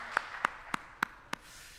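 Five sharp, evenly spaced hand claps sound in a church service, crisp and fairly close, each one isolated with quiet between them.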